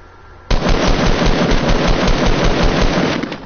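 Video game gunfire bursts in abruptly: a sustained, loud, rapid stream of automatic shots rattling on for three seconds, close and alone with no talk.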